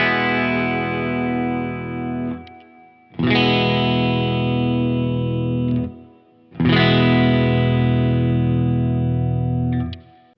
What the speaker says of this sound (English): Let's run through the humbucker sound that's with the Mustang switch in the middle.